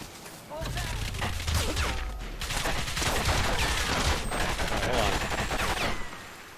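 Sustained gunfire in the video game Crysis Remastered, a dense barrage of rapid shots and bursts rattling on and on over a low rumble, with voices talking underneath.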